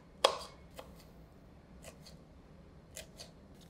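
A knife slices green chillies thinly, producing a few sharp, quiet cuts spaced irregularly against a near-silent background.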